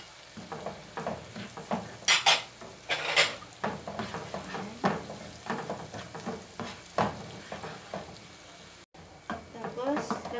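Garlic sizzles in a pan with onions for pork sisig, a soft frying hiss under repeated scraping and stirring strokes of a utensil against the pan, uneven and close.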